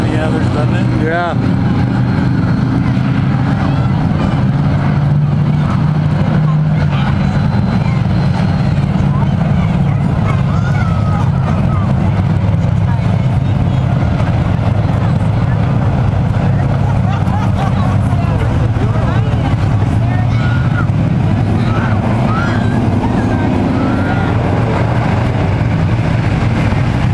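Thunder Truck race trucks roar around a track in a continuous loud engine drone, under steady commentary and crowd babble.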